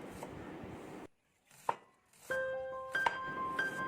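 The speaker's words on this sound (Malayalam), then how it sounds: "അതിനുശേഷം അതിലേക്ക് ഒരു സവാള കൂടി കട്ട് ചെയ്തെടുക്കുന്നുണ്ട്." Onion chopped with a knife on a board, a few separated, close thuds with quiet gaps between them, set against a faint kitchen background hum and no speech.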